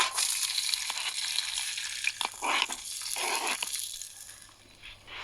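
Potatoes sizzle and crackle in a non-stick pan at a camp stove, with bursts of frying hiss and stirring scrapes rising and falling close by, no voices present.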